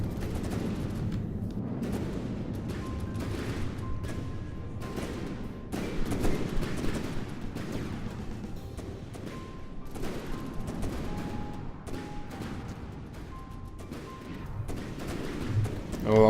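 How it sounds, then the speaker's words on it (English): Repeated heavy booming blasts of cannon fire in the game From the Depths, sharp bursts spaced irregularly over a rumbling background, with brief tones between shots. "a big punishing cannon shell there"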